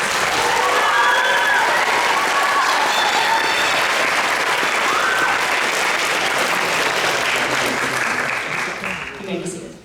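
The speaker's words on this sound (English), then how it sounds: "Let's give them a round of applause." A concert audience at a spring symphonic winds performance claps steadily and loudly for nearly ten seconds, a dense sustained wash of applause that thins slightly at the very end.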